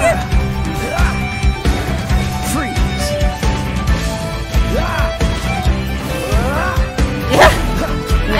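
Lupus Boreas, a wolf boss in the video game Genshin Impact, barks and yelps in repeated sharp bursts amid combat clashes and a backing music track, fairly loud throughout.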